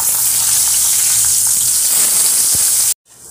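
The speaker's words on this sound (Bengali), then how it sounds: "বাকি বেগুনগুলো এইভাবে ভেজে নেব।" Eggplant slices fry in hot oil in a pan with a dense, constant sizzle for about three seconds, close and loud, before the sound cuts off abruptly.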